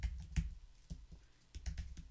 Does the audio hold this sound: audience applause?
no